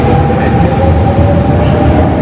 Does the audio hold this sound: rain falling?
no